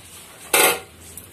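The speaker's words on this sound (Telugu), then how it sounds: "ఇప్పుడు చూడండి బాండలు పెట్టాను. ఈ గరిటెతో నాలుగు గరిటెలు నూనె వేసుకున్నానండి నేను." A wok is set down on a home stove while bitter gourd powder is being made, giving one brief, close metallic clank amid quiet kitchen air, with no voices.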